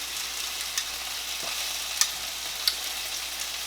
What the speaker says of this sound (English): this is boiling a little bit.